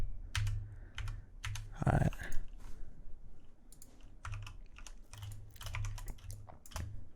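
Computer keyboard keys click in irregular clusters of taps, with the shift and arrow keys in use while designing a business card. The typing is close and fairly quiet, and a voice briefly speaks partway through.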